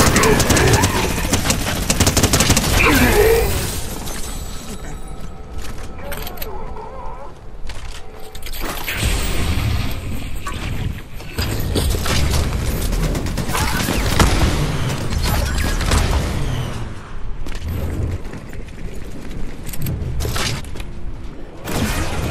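Rapid, dense gunfire and explosive bursts from a Fortnite match rattle on almost without pause, loud and close, with a player talking over the shooting.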